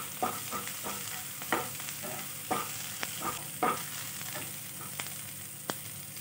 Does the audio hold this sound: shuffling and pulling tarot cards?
no